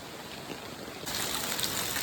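A small spring-fed stream flows with a soft, steady rush of running water in rainy weather at Wagheri Wadi village, continuous and unbroken, with no voices.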